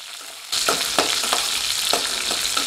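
Small onions and curry leaves sizzle and fry steadily in a hot pan at home, with a dense continuous crackle and occasional stirring scrapes and clatters, close and fairly loud.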